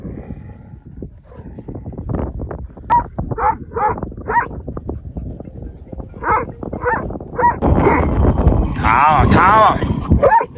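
Kangal dogs bark, yip and whimper in quick bursts while playing and scuffling, an adult attacking a puppy, with a person's voice calling over them nearby.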